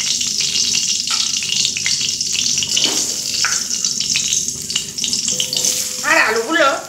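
Potatoes fry in oil over a medium flame, a steady dense sizzle and crackle running throughout, with a few faint clinks near the end.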